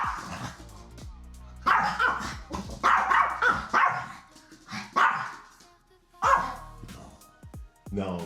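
Three dogs at home barking in repeated loud, sharp bursts with some yips and whimpers, close by and overlapping with stretches of a person talking.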